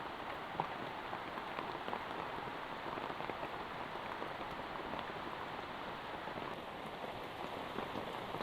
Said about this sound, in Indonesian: hujan sangat deras sekali itu